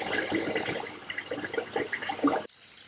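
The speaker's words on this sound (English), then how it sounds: "we need to fill up a bit of water just to make the pots reach" Water splashes and gurgles as it is poured into a small passive aquaponics system with pots, irregular close liquid trickling that stops abruptly near the end.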